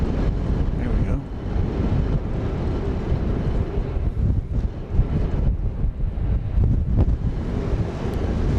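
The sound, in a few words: wind blowing outdoors at Dallas Love Field airport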